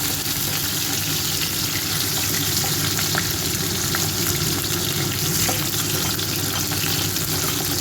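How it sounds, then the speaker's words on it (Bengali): Beans and other vegetables frying in a pan for Bengali shukto, a steady close crackling sizzle with faint scraping stir sounds running throughout, no talk. "এরপরে আমি শিমগুলো ভেজে নিচ্ছি"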